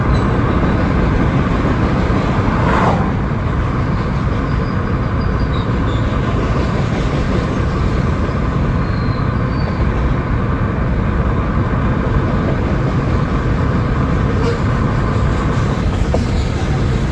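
A passing train rumbles steadily and loudly throughout, a broad continuous roar of wheels on track that holds at a constant level, with no clear talking over it.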